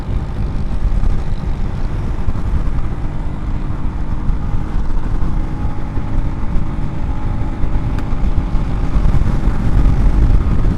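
A vehicle engine cruising steadily in sixth gear on a road, a loud, continuous drone with wind rush that holds level throughout with no shifts.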